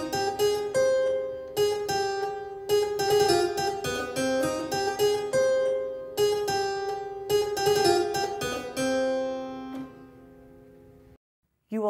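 Harpsichord playing a repeated plucked lick, bright and close, phrases restarting several times before ringing out into silence.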